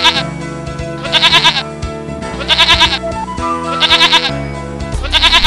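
Loud, close sheep bleats from a children's animated story recur in a steady rhythm, four wavering calls spaced about a second apart over a sustained tonal background.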